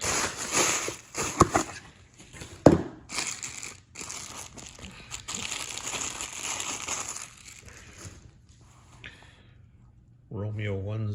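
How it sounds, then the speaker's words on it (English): Bubble wrap packaging crinkles and crackles while being handled at a shooting range when a Sig P320 AXG Pro pistol is unboxed; close, irregular plastic rustling with a few sharper pops, and a voice speaks near the end. "Bubble wrap."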